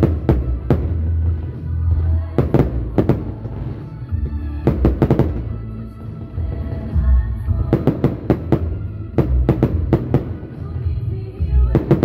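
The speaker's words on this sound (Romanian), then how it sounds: "Evenimentul s-a încheiat cu un impresionant foc de artificii." Fireworks close the wine festival at Vânju Mare, Romania: sharp cracks and booming bursts arrive in irregular clusters over a constant crowd-and-crackle background, some shots close and loud, others softer.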